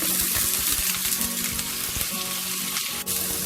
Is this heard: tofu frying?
yes